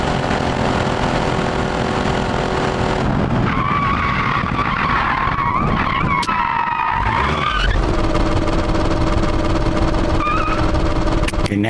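Ibishu Kevin 4WD Digimatic kei truck with a CVT in BeamNG.drive, loud continuous engine drone with a steady whine, then tyres skid and squeal for a few seconds before the drone returns.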